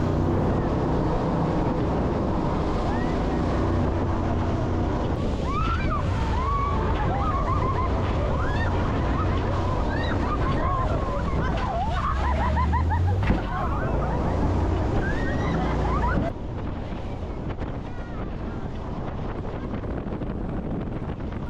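A jet boat speeds across Lake Wakatipu near Queenstown, a steady loud roar of engine and rushing water with heavy wind buffeting throughout, shifting slightly partway through.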